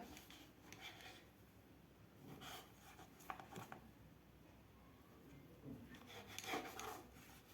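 A knife cuts the corners off slices of bread while making crispy bread rolls, giving soft, close rasping strokes in a few separate bursts against a quiet room background.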